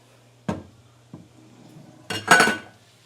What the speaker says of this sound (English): So I'm going to put the garlic in there and let that cook for just a minute or so.